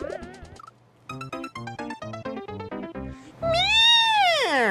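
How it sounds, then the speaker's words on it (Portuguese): A meowing cat sound in a Super Mario Maker 2 level: chiptune-like melodic notes step along before a loud, drawn-out, rising then falling meow-like wail, close and alone without talk. "Parece um gato. Um gato miando."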